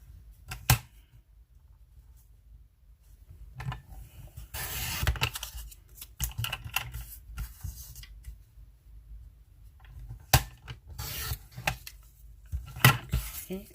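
Paper card stock for a quote card being cut by hand, giving a few sparse, sharp clicks and snips close by with quiet gaps between them and no talking.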